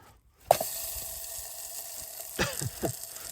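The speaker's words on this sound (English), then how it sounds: "we're going to fry up a wee bit of sausage." Sausage is dropped into a Trangia pan outdoors and starts to sizzle softly, with a brief clatter as it lands and a few quieter scrapes and pops after. The sound is close and fairly faint.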